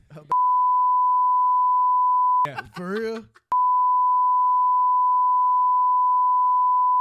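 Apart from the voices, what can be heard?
censor bleep tone over speech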